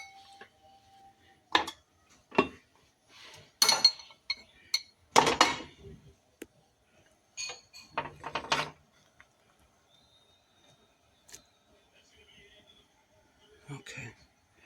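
A spoon clinks against dishes in a home kitchen during holiday cooking, giving scattered sharp taps and clatters, some close and fairly loud, with quiet gaps and occasional talk in between.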